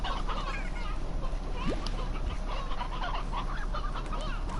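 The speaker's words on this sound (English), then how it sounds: "so we have regular chickens there" Chickens in the video game Slime Rancher cluck softly in short scattered calls over a low steady background hum, fairly faint and without talk.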